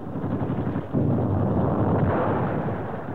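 Dense wartime gunfire and artillery from 1943 Soviet battlefield footage, a continuous loud roar of overlapping shots and blasts that swells after the first second, with no talking.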